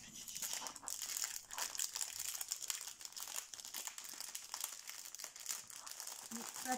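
Thin sheets of paper are crumpled and crinkled while a Temu package is unboxed. The rustling is close and continuous with irregular bursts, quiet overall.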